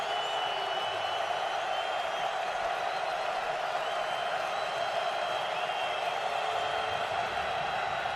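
A steady roar from a stadium crowd at a 2014 NFL night game between the Patriots and Bengals, with dense, continuous noise and no breaks.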